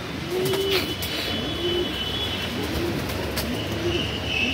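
A Madrasi pigeon in a Kolkata loft coos four times in an even, repeating rhythm, each a low rising-and-falling call, close and clear over faint background hiss, with no talking.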